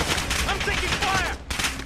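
Rapid gunfire in Call of Duty: Warzone on Rebirth Island, a dense burst of sharp shots nearly two seconds long with a brief gap near the end, close and loud, with faint in-game voices mixed in.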